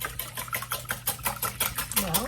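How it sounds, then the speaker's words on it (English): Rapid rhythmic clicking and tapping of a whisk beating four eggs in a bowl, about five strokes per second, close and steady. "whisking them"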